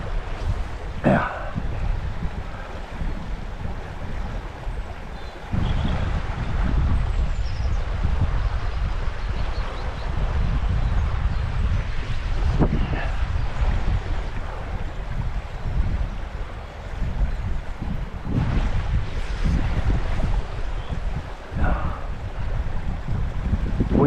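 Wind gusting at a brook during fly fishing, a continuous broad rushing roar with buffeting on the microphone and a couple of sharp knocks, running steadily with no speech.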